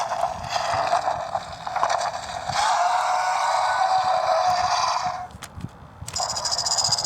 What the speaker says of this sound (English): There's the rattle that I was talking about.